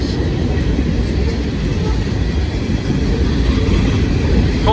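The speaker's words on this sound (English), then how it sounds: "Coal trains." A coal train with red locomotives in the middle and at the rear rolls past, a steady, loud, close rumble and roar of wagons that holds unbroken throughout.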